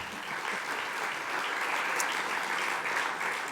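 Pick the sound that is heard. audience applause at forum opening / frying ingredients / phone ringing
audience applause at forum opening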